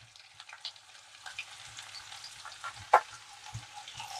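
Onions frying with salt in a pan for a Telugu egg and broad bean curry, heard as a faint, low crackling sizzle with a few soft stirring clicks and one sharper tap, close and quiet, no talking.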